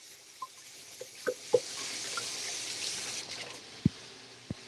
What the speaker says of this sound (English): Rinse my hands off 1 second.